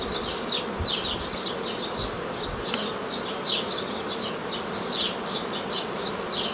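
Dense, steady buzzing of many honeybees close by at a hive, a constant droning hum with faint chirping tones repeating above it, no voices.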